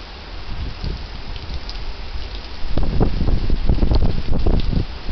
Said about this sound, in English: Oh, and it's raining even harder, too.